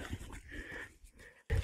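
A dog passing hikers on a nature trail through woods near Innereriz, Switzerland, panting and whimpering close by in soft, quick breaths, ending with a louder thump.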